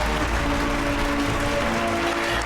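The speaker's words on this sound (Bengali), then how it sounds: "জোরে হাততালি সঞ্চারীর জন্য" An audience applauds in a television game show studio, steady dense clapping that holds evenly throughout, no voices on top.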